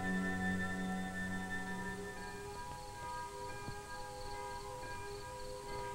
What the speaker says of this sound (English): As night fell suddenly over the hills, the curfew bell tolled its warning.